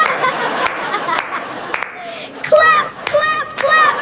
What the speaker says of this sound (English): Wash and splash, clap, clap, clap